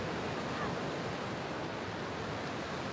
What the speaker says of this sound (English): Breathing with the ocean, listening to the ocean